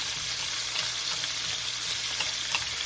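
Fermented beancurd (fuyu) sizzles steadily in hot oil in a wok for a Taiwanese A-choy stir fry, a close, continuous frying hiss with faint stirring scrapes and no talking.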